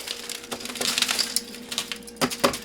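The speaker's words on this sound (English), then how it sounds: "You're not breaking the rice, just the clumps." Clumps of dried rice being broken up inside a folded sheet of parchment, giving close crackling, crinkling bursts and gritty rustles in uneven clusters.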